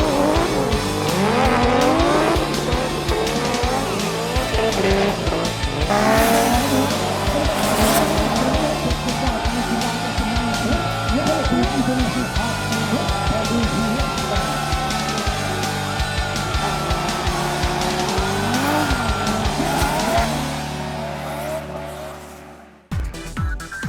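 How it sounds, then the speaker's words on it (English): A car drifting demonstration on the ground at an aviation fair: a revving engine with long, loud tire squeals and skids over about twenty seconds, fading and cutting off near the end, with no clear talk. "spectators not only look up to the sky, but also watch exciting car drifting demonstrations happening on the ground"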